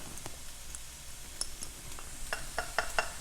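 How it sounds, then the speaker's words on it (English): Onions and jalapenos sauteing in a pan, with a quiet low sizzle under sharp spatula clicks and scrapes that grow more frequent toward the end. "we're going to saute these onions along with our jalapenos"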